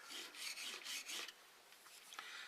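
A hand file sharpens a small blade in a run of close, rhythmic rasping strokes, loud at first and then lighter and more scattered.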